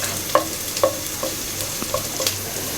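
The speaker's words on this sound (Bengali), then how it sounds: "আমি 5 কোয়া রসুন কুচি কুচি করে কেটে রাখছি সেইগুলা দিয়ে দিব। দিয়ে একটু ভেজে নিব" Chopped garlic and onions frying in oil for chicken haleem, a soft steady sizzle with light scraping stirs, close and quiet, no voices.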